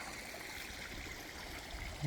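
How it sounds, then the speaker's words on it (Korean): A shallow creek runs steadily nearby with a soft, continuous gurgling and trickling wash, even and unbroken throughout, with no voices or other sounds. "물소리 뭐 참 오늘따라 상당히 예, 곱네요"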